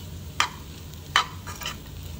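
Kathiyawadi vagharel rotlo, crumbled millet flatbread, being mixed in a pan, heard as two distinct scraping stir strokes over a quiet low background hum.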